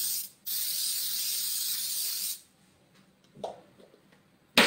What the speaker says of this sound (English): And just spray my pan.